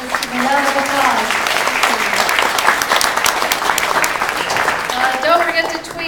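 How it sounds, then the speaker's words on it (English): An audience at a tech event applauds in a sustained round of dense clapping, with a few voices speaking over it near the start and end. "Let's give a round of applause."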